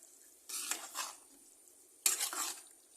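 Lime pickle being mixed in a pan, with two short bursts of stirring and scraping separated by near silence, close but fairly soft, with no voices.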